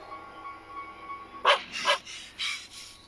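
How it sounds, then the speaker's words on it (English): A dog barks three or four times in quick, sharp bursts after a quiet hum, fairly close and loud against a faint background. "Or there's a dog sat behind him."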